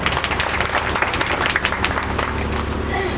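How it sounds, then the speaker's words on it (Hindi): Loud, dense applause from a gathered crowd clapping for a child, a steady roar of many hands without pause. "एक बार बच्चे के लिए जोरदार ताली हो।"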